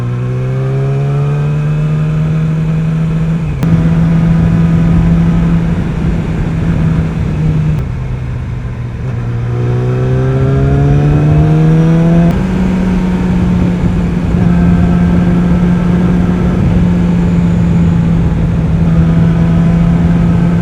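A 2018 Yamaha R6 motorcycle engine revs hard while riding on a road, its loud high-pitched whine climbing and dropping through gear changes, with a few sharp shifts, close and steady for the full length.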